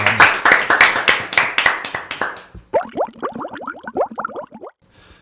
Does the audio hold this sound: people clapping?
yes